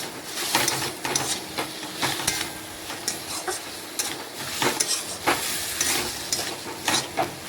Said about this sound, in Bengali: আবারও একটু রান্না করে নিচ্ছি এইভাবে নাড়াচাড়া করে।